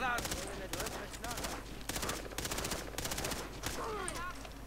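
Gunfire in the Far Cry 3 co-op video game comes in repeated rapid bursts that sound like automatic weapons firing, alternating with short pauses, while someone talks quietly underneath.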